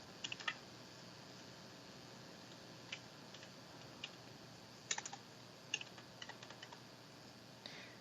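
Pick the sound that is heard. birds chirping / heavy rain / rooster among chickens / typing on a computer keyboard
typing on a computer keyboard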